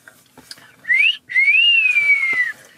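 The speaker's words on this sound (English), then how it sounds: "Whistle for daddy." A child whistles at a baby shower, giving a short rising whistle, a brief pause, then a longer sustained whistle that wavers and slowly falls, clear and close with quiet background chatter.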